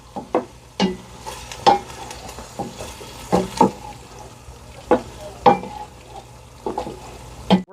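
A spoon stirs an arancini rice mixture moistened with a little water, making a series of wet, sticky squelches and scrapes against the bowl in an irregular rhythm, close and fairly loud.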